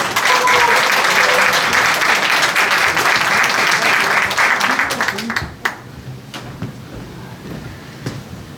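An audience at a book launch event welcomes a pan flute performer with loud, full applause that holds steady, then thins out and fades, leaving scattered claps and a voice.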